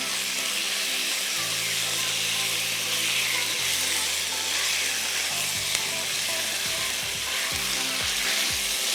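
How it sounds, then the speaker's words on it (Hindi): Pieces of chicken breast fillet sautéing in oil with ginger and garlic give a loud, steady, close sizzle that hisses evenly throughout, with low hum and a few scraping stirs near the end. "अदरक लहसुन के साथ, तेल के साथ आपने इसको सौटे करना है।"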